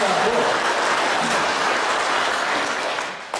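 Church congregation clapping in thanks, a loud, dense round of applause that runs steadily for about three seconds and tapers slightly at the close, with voices mixed in.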